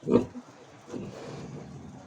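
A brief sharp squeal from piglets being tail-docked and given iron, then softer grunting and rustling close by that carries on quietly.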